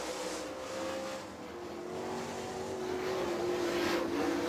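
A super late model race car engine drones steadily at a distance on Rome Speedway, Georgia, its pitch holding and slowly rising, with a faint hiss of crowd or wind behind it.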